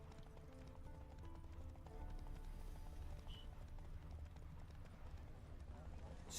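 Roach, the horse in The Witcher 3, gallops with steady, driving hoofbeats, mid-loud and continuous, while voices talk over the running.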